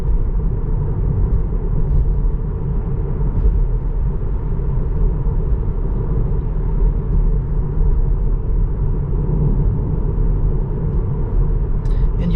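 Steady road rumble and tyre noise from a Tesla cruising on Autopilot at around 60 km/h on a daily commute route, continuous and even throughout with no talk.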